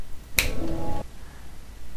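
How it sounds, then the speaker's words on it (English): A single sharp finger snap, close and crisp, sounds once with a steady tone lingering briefly behind it, then quiet. "I snap my fingers the second that this starts recording"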